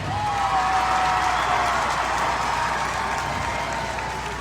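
Steady, dense applause from a large crowd at a political rally fills the air, unbroken and fairly loud, with no voices over it.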